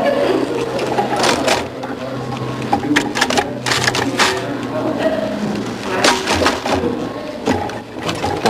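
Rapid mechanical clatter of a typewriter being typed on, a close, busy run of keystrokes and carriage noise with a voice talking over it.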